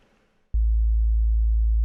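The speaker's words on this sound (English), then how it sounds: "And then a sine wave" A synthesized sine wave holds one steady pitch, starting abruptly after a brief soft noisy lead-in and sustaining loud and unchanging to the end.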